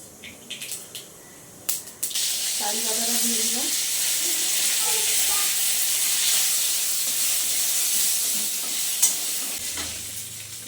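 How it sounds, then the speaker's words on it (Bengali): Mustard seeds hit hot oil for tempering and burst into a loud, steady sizzling hiss after a couple of quiet seconds, close by, with a brief voice murmuring early on and stirring clatter near the end. "এই যে সর্ষেটা দেব এই সর্ষেটা হচ্ছে ফোড়নে দেব তেল গরম হয়ে গেছে"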